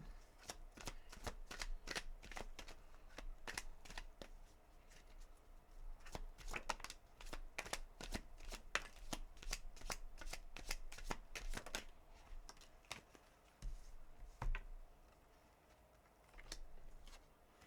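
Tarot cards are shuffled close by in a long, dense stretch of rapid riffling flicks and snaps, which thin out into a few scattered taps toward the end.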